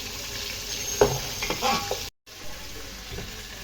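Rice is added to chicken biryani masala in a pot and stirred through, giving close scraping and clattering stirs over a frying sizzle, followed by a brief cut and then a quieter sizzle.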